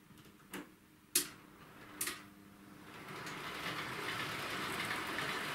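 A model train runs along model railway track laid on cork, a few sharp clicks over rail joints early on, then a rising, steady rolling rumble as it approaches and continues.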